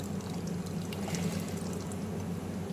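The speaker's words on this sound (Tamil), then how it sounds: "புளியை கரைச்சி ஊற்றிருக்கு" Dissolved tamarind water pours into a pot of avarakkai sambar in a steady, low, sloshing stream that runs unbroken for a few seconds without speech.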